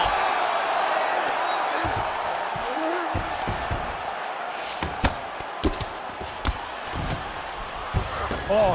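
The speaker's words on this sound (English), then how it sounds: "huge pop from the crowd as the fighters get back up to their feet" In a UFC video game fight simulation set in Abu Dhabi, a simulated arena crowd roars continuously while sharp thuds and slams of the fighters land on top, with a commentator talking through it.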